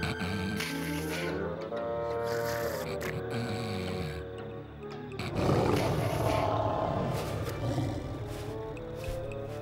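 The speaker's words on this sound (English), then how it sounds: "That lion sounds pretty ferocious and pretty close." A lion growls close by in a deep, menacing, drawn-out rumble that swells into a louder roar partway through.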